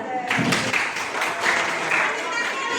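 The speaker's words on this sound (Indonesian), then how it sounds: "Tepuk tangan" A class of students claps together in a classroom, a dense and fairly loud wash of hand claps lasting a few seconds, with some voices mixed in.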